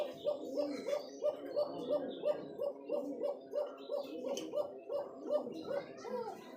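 Pigeons being sold, among them rare Koka breeds, coo steadily in a rhythmic series of repeated low calls that continue without a break, close by and fairly loud, with faint chirps and clutter in the background.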